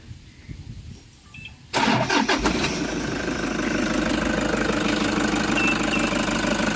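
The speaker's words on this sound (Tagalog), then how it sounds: "So, yan yung andar ng kanyang makina." A Toyota Hiace Commuter van's engine cranks briefly after a quiet moment, catches with a loud burst, then settles into a steady, close, even idle that continues to the end.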